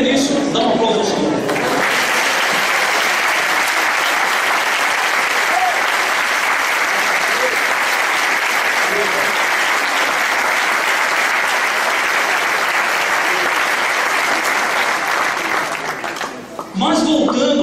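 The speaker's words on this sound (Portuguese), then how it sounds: "dá um aplauso ao Senhor" A church congregation breaks into loud, sustained applause that fills the space almost unbroken for over fifteen seconds before fading, with a preacher's voice briefly heard at the start and end.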